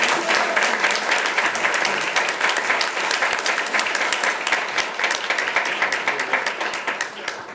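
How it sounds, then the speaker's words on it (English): Sustained applause from a school board meeting audience, many hands clapping steadily together for several seconds in an indoor hall, with no voices standing out above it. "Let's give Sam a round of applause."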